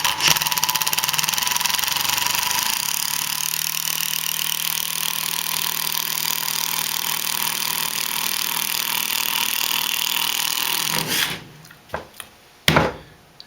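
A cordless impact driver with a Phillips bit runs continuously for about eleven seconds, sinking a 4-inch screw into a 4x4 timber with a loud, dense rattling hammer and motor whine, then stops with a few clunks.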